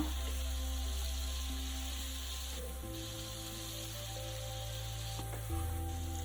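Chicken steak frying in a pan with a low, steady sizzle under a humming background, the tone shifting partway through as the pieces are flipped.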